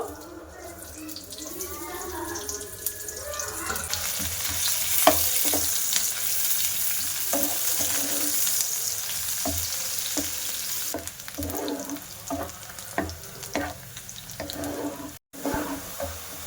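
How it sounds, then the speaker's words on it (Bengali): Chopped onions fry in ghee to make birista with a continuous sizzle under irregular clinks and scrapes of stirring, and splashy water-like noise is mixed in. "পেঁয়াজগুলো দিয়ে দেব দিয়ে আমি একটা পেঁয়াজের ব্রেস্তা বানিয়ে নেব"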